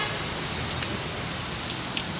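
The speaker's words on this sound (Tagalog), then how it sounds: "Lakas ng ulan." Heavy typhoon rain pours down steadily, a dense, loud wash of drops hitting surfaces with no pauses and no voices.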